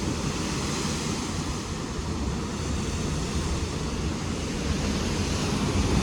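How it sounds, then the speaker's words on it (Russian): Ocean waves break on the volcanic shore of Lanzarote in the Canary Islands, a loud, steady roar of surf that never lets up, with wind rushing across the microphone and no voices. "Вот это волны"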